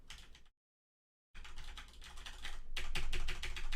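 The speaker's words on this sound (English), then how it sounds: "Did I get a new keyboard? Has it always been that loud?" A computer keyboard clatters loudly with fast, close key clicks, cutting out into brief silence before resuming and growing heavier and denser toward the end.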